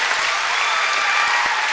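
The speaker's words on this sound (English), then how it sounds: "If you like it, clap your hands." An audience claps at a high school assembly talk, with steady, dense applause filling the room throughout, fairly loud and continuous with no voices over it.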